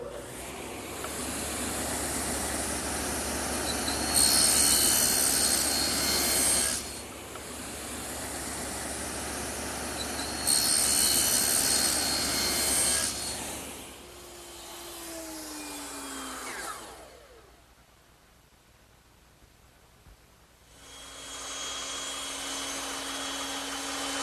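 A power tool, most likely a router, cuts a groove into the end of a wooden support piece for a desk in a woodworking shop. Loud bursts of whining, grinding cutting come and go between steady motor hum, then spin down near the end.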